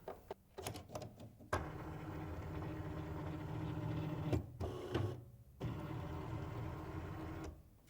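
A Cricut Maker 3 cutting machine switching on, a few clicks and then a steady mechanical whir with motor movements that rise and pause, close and fairly quiet.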